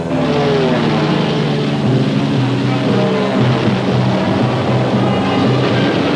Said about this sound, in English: B-17s lift off from Midway in June 1942 to join our Navy's carrier-based aircraft